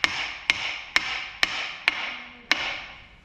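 A soft-headed hammer strikes the main pulley on a Land Rover 200tdi engine six times at a steady rhythm, each close, ringing metallic knock trailing off before the next, with no talking.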